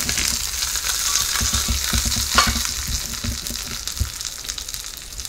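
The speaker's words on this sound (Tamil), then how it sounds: "இப்ப தாளிதம் சேர்த்திக்கலாம்." Tempering is poured into gooseberry yogurt raita and sizzles loudly up close, a bubbling crackle with repeated stirring scrapes and spoon knocks that gradually settles.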